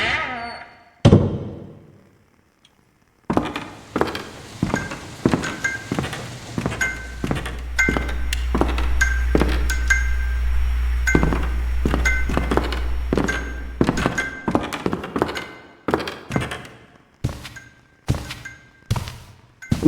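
Footsteps inside a house: a long series of close, hollow thumps at an uneven walking pace, with a low rumble under the middle stretch and a few isolated knocks before it.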